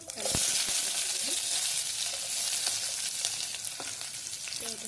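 Onions fry in hot oil with mustard seeds in a pan, a loud steady crackling sizzle with a few sharp pops and light stirring scrapes throughout.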